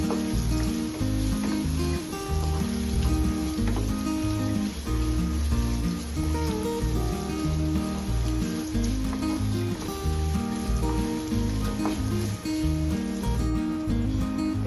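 Chopped onions sizzle and fry in hot oil in a pan with mustard seeds, making a loud, continuous, even crackle that runs the whole time over a faint steady tonal background.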